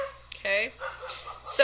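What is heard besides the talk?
dogs barking in the background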